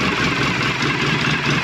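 An ATV engine runs steadily at a close distance, a dense, rough mechanical rumble holding at a constant level without revving, with its check engine light on.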